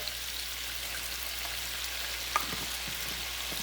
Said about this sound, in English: And let them get fried